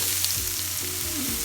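Mustard seeds frying in hot oil in a pan for a Tamil methi leaf dish, a dense, steady crackling sizzle heard up close and alone.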